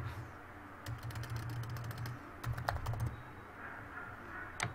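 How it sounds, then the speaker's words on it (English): Someone types a short phrase on a computer keyboard: two quick bursts of close, crisp key clicks separated by a pause, then a final tap, with no talking. "So let's just type Visual Studio Code."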